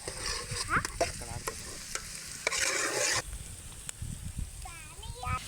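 Sliced onions sizzle steadily in a hot pan while a spoon scrapes and stirs them in uneven strokes, with a few brief voices breaking in near the start and end.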